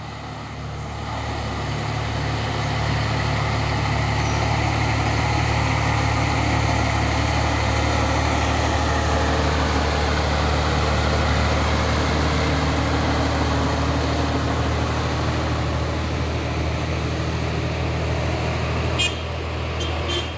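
A Hino 500 truck labors up the Bukit Kodok hill, its engine a loud, continuous low drone that holds steady and close throughout, with no voices.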